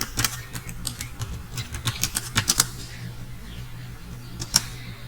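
Keys on a computer keyboard tapped in an uneven run of quick, close clicks while a channel name is entered, pausing briefly near the end before one final sharp keystroke, with a faint steady hum beneath.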